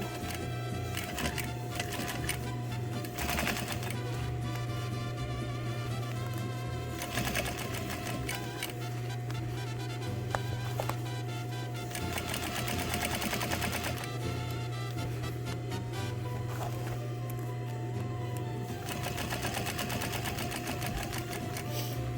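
A domestic sewing machine stitches fabric steadily and loudly for over twenty seconds, its motor hum and rapid needle clatter running continuously with brief changes in pace.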